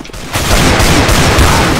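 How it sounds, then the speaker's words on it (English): Shotgun fire in Counter-Strike: Global Offensive, a loud, dense burst of blasts starting sharply after a brief quiet moment and roaring on without pause, close and harsh. "How'd he kill me from that range with a shotgun?"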